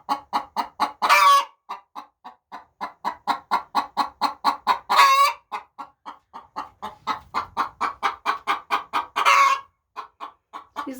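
A broody hen in a henhouse clucks close and loud in long, rhythmic runs of sharp notes, broken three times by harsher, drawn-out squawks.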